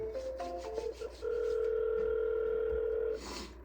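Outgoing telephone call tones: a few short dialing beeps, then a long steady ringback-style tone lasting a couple of seconds, heard close and alone with no talk.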